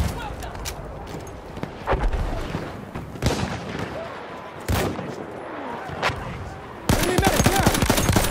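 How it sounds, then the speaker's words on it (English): Battlefield 1 gunfire rings out as sharp shots and rapid bursts, with booming impacts and a final dense volley, while voices call out over the battle. "Machine gun over there!"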